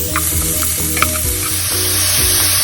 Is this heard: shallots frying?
yes